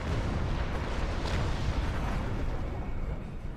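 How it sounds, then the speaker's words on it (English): Starship weapons fire and explosions striking a time portal in Star Trek Online, a dense continuous roar of booming blasts, loud and heavy throughout. "The Heralds are firing on the portal!"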